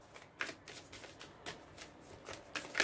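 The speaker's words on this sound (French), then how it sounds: "Je vais prendre maintenant une carte." Tarot cards are handled and drawn from a deck during a reading, giving soft papery shuffling and flicking sounds in quick irregular bursts, close and fairly quiet, with no voice.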